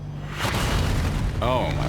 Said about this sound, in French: Une explosion et des flammes sous ses pieds.